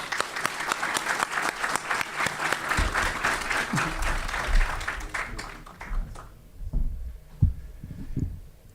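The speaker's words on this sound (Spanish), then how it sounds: "Lo recibimos entonces con un aplauso." Audience applause welcoming a speaker in an auditorium at a Centro de Capitanes tribute to Malvinas fallen and veterans: dense, steady clapping for about six seconds that thins out into scattered handclaps and a few low thumps.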